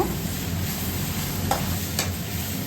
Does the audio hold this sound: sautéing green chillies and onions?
yes